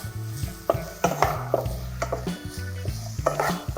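Ginger-garlic paste being stirred in a steel pan while cooking mushroom masala, with a spoon scraping and clinking against the metal in irregular close knocks, no talking.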